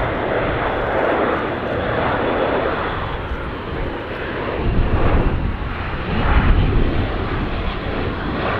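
A Spanish Air Force Airbus A400M military transport flies a slow air display, its engines producing a loud, continuous roar that swells toward the end.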